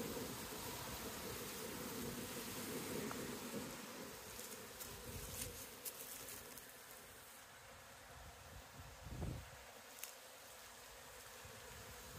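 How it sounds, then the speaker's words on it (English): A mass of new honeybees pours out of the hive entrance on orientation flights, a faint, steady buzzing swarm heard close up, with a few passing bees buzzing louder. "I think we just watched a ton of new bees come out for an orientation."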